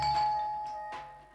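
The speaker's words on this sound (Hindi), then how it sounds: "ओए वो इतनी देर से दरवाजे की घंटी बज रही है" A doorbell rings indoors in a home during a Hindi TV serial scene, giving a clear ding-dong with two distinct chimes that sustain and fade, fairly loud with no talking over it.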